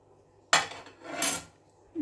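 A utensil spreads filling across a bun, making two scraping, rubbing strokes close up with a clear gap between them and no talking.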